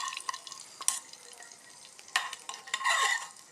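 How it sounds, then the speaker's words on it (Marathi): Hot chili tempering poured over soft khaman dhokla, a sizzling, crackling burst of oil with scattered stirring clatters and a louder fizzing spell near the end, close and moderately loud with no talk. "तर आता आपल्याला हा तडका यावरती घालायचा आहे"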